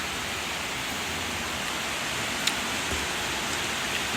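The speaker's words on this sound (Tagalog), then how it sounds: "lakas ng ulan" Heavy rain pours steadily on a rainy afternoon as a dense, even hiss, with a faint knock or drip here and there and no voices.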